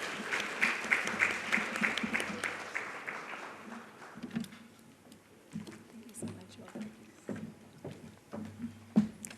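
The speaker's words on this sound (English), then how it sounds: "A round of applause as he makes his way." Audience at a public-private forum in Namibia claps for an arriving speaker, scattered applause rising then thinning into sparse claps, with a voice speaking over it through the hall.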